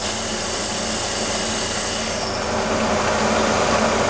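A lathe runs nonstop, spinning a steel workpiece while a nut is being cut, giving a steady, loud, dense whir and hiss throughout with no pauses.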